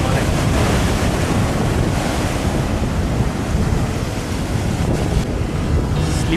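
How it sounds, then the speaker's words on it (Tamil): Ocean waves surging and breaking over slippery stones on a shore, a continuous loud wash of surf with heavy wind rumble against the microphone, no voices. "அதுல அடுத்த அலை வருது, அடுத்த அலை வருது."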